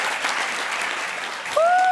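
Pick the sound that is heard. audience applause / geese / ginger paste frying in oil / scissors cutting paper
audience applause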